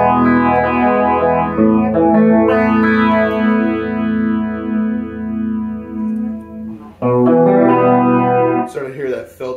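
An electric guitar runs through a Strymon Zelzah phaser pedal as its knob is turned, sustained chords swirling with shifting, sweeping filter movement, loud and close, with a fresh strum near the end.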